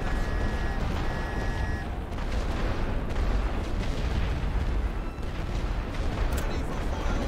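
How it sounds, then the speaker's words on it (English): Artillery fire in The Great War: Western Front, a dense, continuous rumble of booms and explosions filling the battlefield, loud and sustained with no clear gaps. "I think we can take out this machine gun with artillery now"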